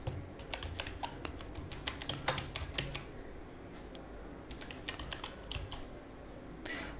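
Rapid bursts of keystrokes on a computer keyboard while headings are typed into a LibreOffice Writer document, close and steady with brief pauses between words.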